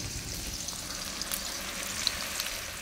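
Onions and bay leaves frying in oil over a wood-fired stove, a steady soft sizzle and crackle with occasional small pops, continuous and fairly faint.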